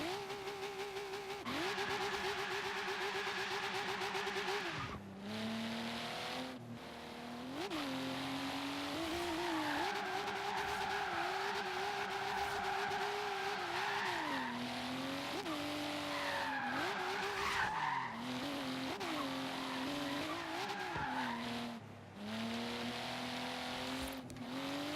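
Volvo 850R drift car in a video game, its engine droning steadily with rising and falling pitch as revs swing through slides, broken by brief shift dips and occasional tire squeal, loud and continuous.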